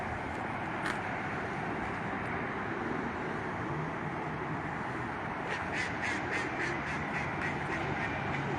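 Ducks at a bird-feeding spot quack in a quick cluster of calls near the end, over a constant outdoor hiss and distant traffic rumble, with no talking.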